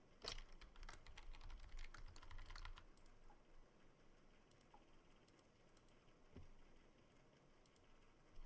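Typing on a computer keyboard, quiet rapid clusters of key clicks, busier at first and then sparse, close and faint with no talking.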